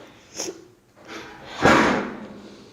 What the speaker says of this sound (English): It's a door closing.